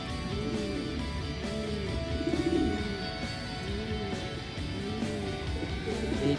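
Racing pigeons at a loft during derby race training coo close by: repeated soft, throaty rolling calls that overlap one another against a steady background.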